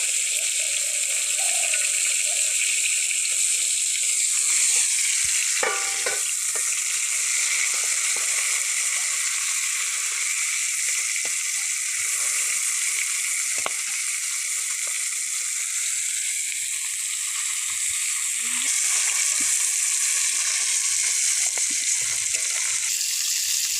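Fish (mrigel and silver carp) sizzles steadily in hot oil in a pan, with a brief clatter and stir as the pieces are turned over partway through, continuous loud frying throughout.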